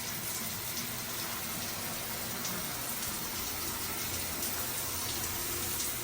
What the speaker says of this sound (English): when you pull this, try to get the shower going, this thing runs like crazy.